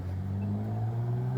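A loud car rumbles nearby with a steady low engine drone, heard alone without any voices.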